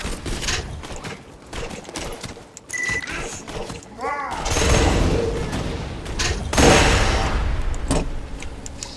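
Gunfire rings out in Borderlands 2, scattered shots at first and then heavier, louder bursts with booming reports near the end, all under someone talking as he plays.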